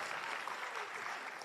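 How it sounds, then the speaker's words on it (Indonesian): Seminar audience giving a round of applause, a continuous dense patter of many hands clapping evenly throughout, moderately distant and fairly quiet, with no one speaking over it. "Tepuk tangan buat Padang."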